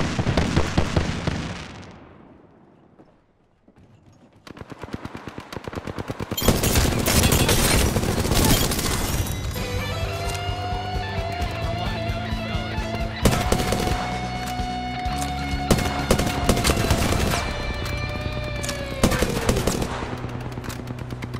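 Knuckle Cluster explosions in Apex Legends set off a dense, crackling barrage of rapid pops and blasts with a ringing tonal whine, loud and sustained after a brief quieter lull near the start.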